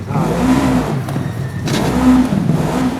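An automatic SXS side-by-side racing in Dakar Desert Rally, its engine droning loudly and continuously with rising and falling revs throughout.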